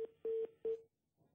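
Telephone line connecting during a live call-in broadcast: three electronic beeps in a row, the second held longest, then near silence with a faint murmur at the end.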